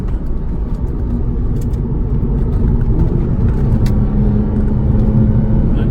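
A Porsche race car drives a damp Sepang circuit in Malaysia, a loud, steady low engine drone and rumble with road and wind noise heard from inside the car, continuous with no clear gear changes.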